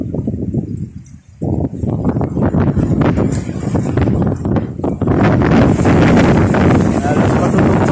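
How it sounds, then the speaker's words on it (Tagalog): Strong gusts of wind buffet the microphone in Tarlac City, Philippines, among banana plants under cloudy skies, roaring loudly and building toward a constant rushing blast by the end. "napakalakas ng hangin dito."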